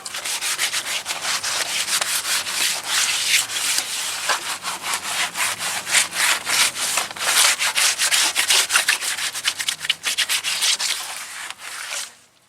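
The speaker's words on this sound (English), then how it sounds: "start sanding everything down, scuffing it up, so the paint has something to bond to" Rapid back-and-forth sanding scuffs a car's engine bay surface before painting, a dense rhythmic rasp up close, continuing steadily with no voices.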